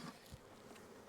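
Honey bees hum in a steady, soft drone from an open hive box heavy with bees during a hive split, a continuous low buzz with no voices.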